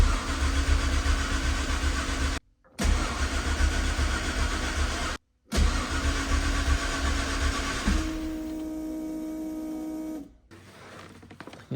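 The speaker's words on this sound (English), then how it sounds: "I'm just gonna crank it over to turn the oil pump" Car engine cranking over after a motor swap to prime the oil pump before first start, a loud sustained mechanical churning in bursts separated by short pauses, ending with a steadier lower hum.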